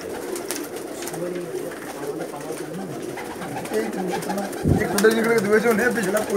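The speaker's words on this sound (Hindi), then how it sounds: "ये ज़्यादा तादाद में डब वाले कबूतर है सारे" Pakistani dub pigeons coo in a flock, their low rolling calls repeating steadily and overlapping at close range against a busy background murmur, with a brief thump near the end.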